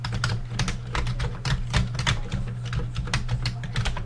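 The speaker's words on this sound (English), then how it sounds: "typing a very basic program on my Commodore VIC-20" Keys clacking on a Commodore VIC-20 home computer keyboard, a rapid, uneven run of close taps with no pauses, over a low steady hum.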